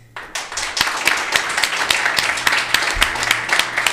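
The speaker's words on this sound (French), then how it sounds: "On va demander au public d'applaudir pour les grosses techs" An audience claps for the big tech companies at a live growth-tech show, building from a few claps into sustained applause with distinct individual claps standing out near the front.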